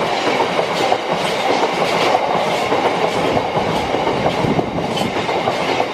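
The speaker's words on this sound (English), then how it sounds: "And there's a train just going past." Long train rolling through Stalybridge Station, a steady close rumble with rhythmic clickety-clack of wheels over rail joints, continuous and loud for the whole stretch with no voices.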